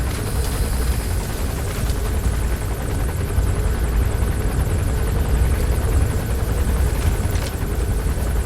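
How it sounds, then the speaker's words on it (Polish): Helicopter in Metal Gear Solid V: The Phantom Pain circling overhead, a steady loud rotor drone with a low thumping rumble that swells slightly midway and holds through to the end. "Helikopter mi tak przez czas lata nad głową."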